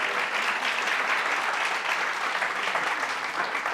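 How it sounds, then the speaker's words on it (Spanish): A church congregation applauds steadily for a few seconds, a dense, even wash of clapping from many hands with no speech over it. "Un aplauso para ellos también."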